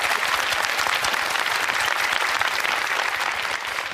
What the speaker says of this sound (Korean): 자, 일단 박수 한번 보내주세요.